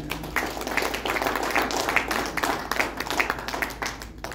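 An audience clapping for a fellow participant at an entrepreneur motivation seminar, a moderate patter of hands with uneven rhythmic peaks, fairly close and steady, with no voices on top.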